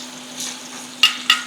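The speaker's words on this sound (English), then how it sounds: "You hear that sizzling?" A steak sizzles in a hot pan during a reverse sear, a steady hiss of frying with two sharper crackling bursts near the end, close and alone without speech.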